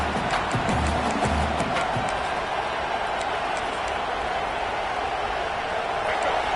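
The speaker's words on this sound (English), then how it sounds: "And wow, listen to this crowd noise. This stadium is vibrating." Stadium crowd at a Texas A&M vs LSU college football game, a dense, constant roar of many voices with scattered shouts and cheers, loud and unbroken throughout.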